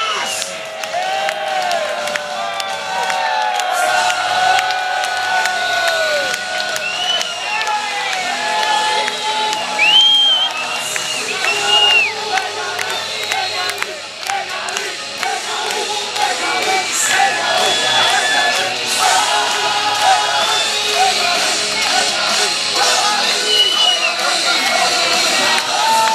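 Concert audience at a single launch event in the Collosseum club in Košice, steady cheering, whoops and shouts with applause mixed in, sustained at moderate loudness for the whole stretch.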